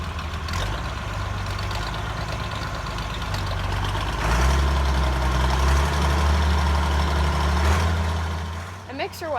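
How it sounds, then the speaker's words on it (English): A farm tractor engine runs steadily with a mixer wagon switched on, a loud low rumble that deepens and strengthens midway as the mixer engages, with some voice heard over the noise. "The next thing I need to do is start the tractor and turn the mixer wagon on"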